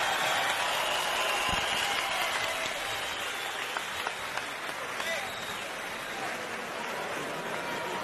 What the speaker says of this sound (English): A round of applause, please, for this great performance tonight by Carl the Truth Williams.